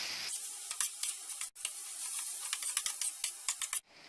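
Tomatoes with salt sizzling on a hot tawa for street-style tawa pulao, a bright crackling sizzle broken by quick bursts of stirring scrapes, close and alone until it cuts off abruptly.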